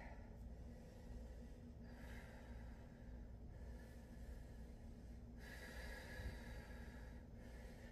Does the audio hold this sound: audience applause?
no